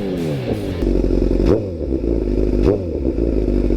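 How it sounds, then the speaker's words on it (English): A 2019 Chevrolet Silverado LTZ with quad exhaust tips revs loudly up close, deep engine rumble rising in two sharp throttle blips over a steady idle burble, with no talk. "Give you guys a couple revs here."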